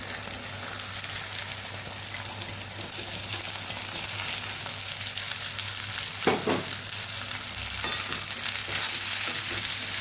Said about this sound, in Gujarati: ડુંગળી આપણે અહીંયા મસ્ત એવી સતળાઈ ગઈ છે તો અહીંયા આપણે ભીંડાને ઉમેરી દઈશું